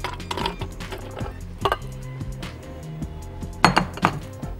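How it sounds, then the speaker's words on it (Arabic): Ice cubes drop into a glass while a persimmon and orange cocktail is being made. A few sharp clinks and knocks arrive in small clusters, close by, with quiet gaps between them. "هنزل بشويه من مكعبات التلج"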